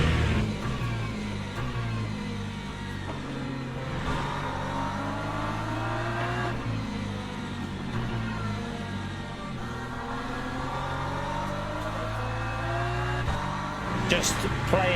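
LMP2 race cars in the Le Mans Ultimate game at Silverstone, a continuous layered engine drone with rising and falling revs as cars pass, steady and fairly loud, with a voice talking throughout.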